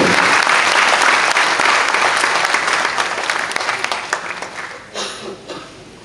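Enthusiastic audience applause at a Hindi literary award ceremony and festival, loud sustained clapping that gradually thins and fades out over the last couple of seconds.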